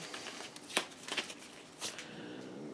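A deck of oracle cards is shuffled softly up close, a few quick riffling bursts separated by short pauses in an otherwise quiet room.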